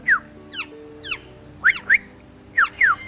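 Several birds in a rehabilitation building for baby and recovering birds give short, sharp squawking and chirping calls, about seven distinct bursts spaced irregularly across a few seconds, fairly loud and close, with no talking.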